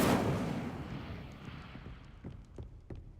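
Incendio fire spell cast in Hogwarts Legacy: a whooshing, rumbling burst at the start that slowly fades, followed by a few faint thuds and clicks.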